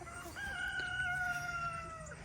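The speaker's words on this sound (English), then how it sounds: "They're mostly roosters." A rooster on a homestead gives a single drawn-out crow at moderate distance, with faint clucking from other fowl and a low background hum around it.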